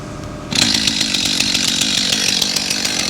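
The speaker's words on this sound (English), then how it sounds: "My chain's come loose, I'm just going to tighten it up." A chainsaw idles steadily nearby while its loose chain is being tightened, a constant mechanical drone that jumps up in level after half a second and then holds loud and even with no speech.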